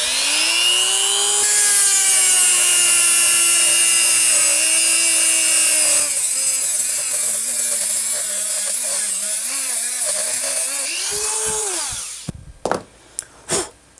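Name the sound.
rotary tool cutting disc cutting tube for lure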